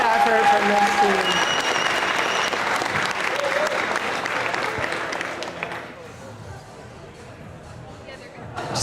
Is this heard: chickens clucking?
no